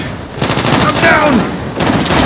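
Rapid automatic gunfire from an HG-40 submachine gun in the mobile shooter Call of Duty Mobile multiplayer, two loud bursts close by with a short gap between them and game voice chatter mixed in.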